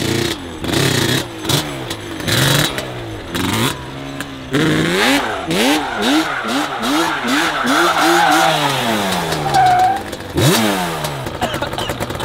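A Yamaha Banshee 350 ATV engine with a carburetor float problem revs up and down in repeated rising and falling sweeps, close and loud, with a slight bog between pulls.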